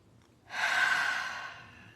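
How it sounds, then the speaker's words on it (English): A single deep breath drawn in through the nose and mouth, rising sharply, then a long airy inhale that slowly fades, close and clear with no talking. "Nice deep breath in."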